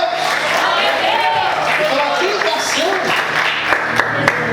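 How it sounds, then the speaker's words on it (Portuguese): A church congregation applauds steadily throughout, a dense wash of clapping with voices calling out over it and no pause. "Você pode aplaudir o Senhor, queridos."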